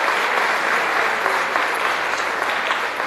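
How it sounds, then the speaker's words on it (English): Sustained applause from the Formula SAE teams and crowd at an awards ceremony, dense and steady clapping filling the room throughout with no pauses. "How about you give yourselves a big round of applause?"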